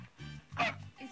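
A human voice imitates a seal with a single short, throaty barking yelp in the middle of the moment, framed by quieter vocal murmurs before and after.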